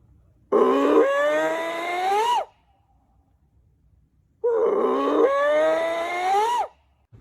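A person imitates a Bigfoot howl outdoors: two long, loud, drawn-out howls of about two seconds each, separated by a quiet pause, with each call rising and wavering before it breaks off.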